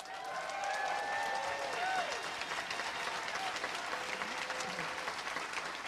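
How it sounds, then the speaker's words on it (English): An audience claps steadily, a dense wash of applause with a few whoops and cheers rising over it, fairly close. "give these guys a big round of applause."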